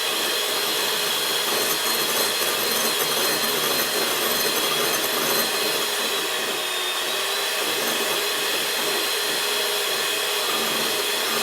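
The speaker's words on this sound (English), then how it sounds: "Often with mixing machines like this, the beaters are the wrong way around and you end up going around the bowl" An electric hand mixer's beaters whisking in a bowl for a raspberry pavlova, a loud, continuous high-pitched whirring drone with a steady grinding texture, close and alone.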